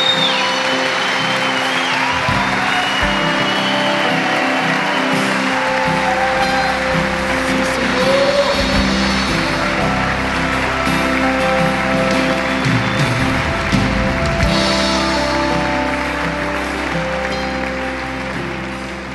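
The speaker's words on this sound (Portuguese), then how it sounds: "Vamos abençoar Jesus com um aplauso." Church congregation standing and applauding together, a broad steady wash of clapping that holds loud for most of the stretch before easing off near the end.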